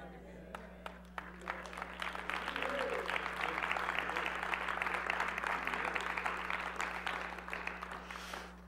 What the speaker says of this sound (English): But see, you're clapping for him.